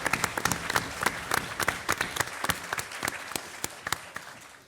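An audience at a veterans rider talk event claps for the event sponsors, a lively crowd of distinct hand claps with sharp individual smacks over a continuous patter, steady and fairly close.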